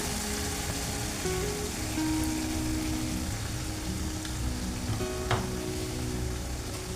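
Sizzling and frying of spice masala in a pan as yogurt goes in for a jackfruit curry, a steady close crackle with soft stirring and one sharper spit near the end.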